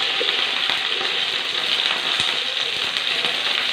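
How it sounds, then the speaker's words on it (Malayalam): Okra sizzling and crackling in coconut oil in a pan on the stove, a steady dense fry with scattered pops running throughout at close range, with no voices. "ഒരു പാൻ അടുപ്പ് വെച്ച് ഇതിലേക്ക് നമുക്ക് ഒരു സ്പൂൺ വെളിച്ചെണ്ണ ഒഴിക്കാം ഇതിനകത്തേക്ക് നമുക്ക് വെണ്ടയ്ക്ക ഇട്ട് കൊടുക്കാം"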